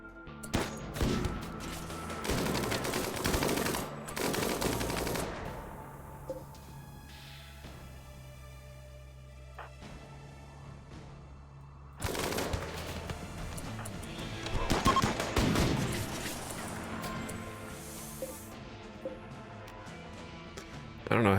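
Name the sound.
heavy SMG gunfire in RimWorld video game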